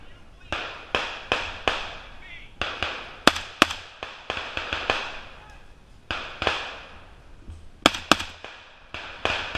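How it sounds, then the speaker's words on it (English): Rifles firing blank rounds at a Milsim West milsim event crack out in scattered single and paired reports, some close and sharp, others farther off, with irregular gaps between shots and faint background noise. "Before you begin blank firing, check your right and your left."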